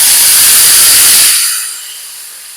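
A loud, sharp sizzle bursts out as tamarind water hits hot oil for a South Indian vatha kuzhambu, then quickly settles into a softer, steady hiss.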